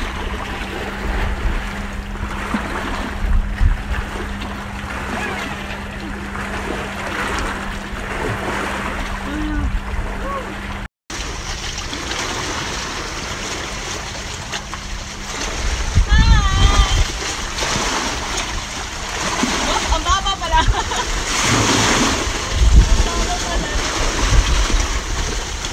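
Strong sea waves surge and splash at a beach during a crystal kayak outing, a steady roar of surf and wind with heavier crashes building in the second half.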